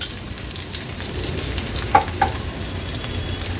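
Chopped onion and crushed garlic cloves sizzling steadily in hot oil over a medium flame, a continuous close frying hiss with two brief louder crackles partway through and no talking.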